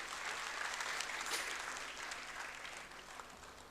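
Audience applause in a hall after a speaker is introduced at an AMU event, steady dense clapping throughout, moderately distant and fairly quiet, with no speech over it.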